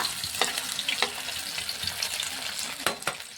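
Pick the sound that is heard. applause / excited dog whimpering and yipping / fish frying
fish frying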